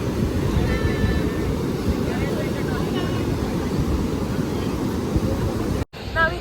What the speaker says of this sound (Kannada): ಅಲೆ ಬರ್ತಾ ಬರ್ತಾ ಬರ್ತಾ ನಮ್ಮ ಹತ್ರನೇ ಬರ್ತಾ ಇದೆ